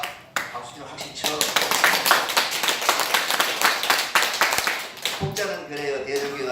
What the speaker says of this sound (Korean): 대종교가 박수 좀 확실히 쳐